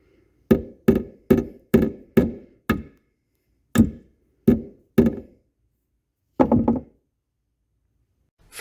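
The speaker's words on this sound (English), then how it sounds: "had to use a small nail through a hole in the housing to keep it in place" A small nail hammered through a hole in a sensor housing in an attic, a run of sharp wooden knocks in a steady rhythm, a short pause, three more blows, then a final louder strike, close and alone.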